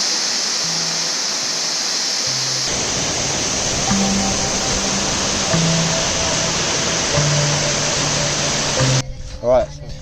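Waterfall number three on the Four Waterfalls Walk in the Brecon Beacons, heard from the bottom right beside it: a loud, steady broadband roar of falling water, with a voice speaking briefly over it.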